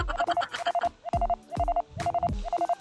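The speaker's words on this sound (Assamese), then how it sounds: "ফোন আহিছে তাত। ৰিচিভ কৰি লওঁ।" A phone rings with a repeating electronic ringtone: quick clusters of bright beeping tones separated by short gaps, clear and close, with no voices.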